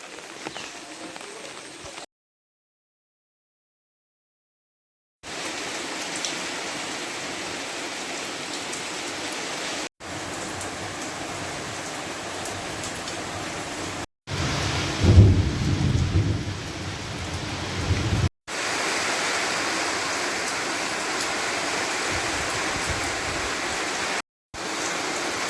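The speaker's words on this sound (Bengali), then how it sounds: "কিছুক্ষণ আগে এত বৃষ্টি আসিল না, এখন কিন্তু আবার বৃষ্টি, অনেক বৃষ্টি বাড়তেছে।" Heavy rain pours onto henna tree leaves in Dhobaura, a dense steady hiss broken by short gaps, with a deep rumble of thunder rising midway through.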